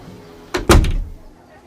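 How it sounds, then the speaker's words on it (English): A door is pushed shut with a soft thud followed by a heavier closing knock, one short close impact in a quiet indoor space. "And the woman closed the door."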